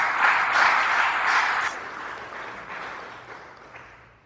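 A crowd at a high school graduation ceremony applauds, loud and dense at first, then gradually thinning and fading away over a few seconds, with no voices on top.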